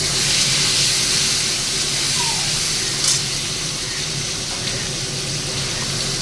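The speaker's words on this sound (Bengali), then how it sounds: "এবার কটা সিম ভাজবো" Flat beans frying in hot oil in a pan, giving a steady, close sizzling hiss that runs unbroken throughout with no one speaking.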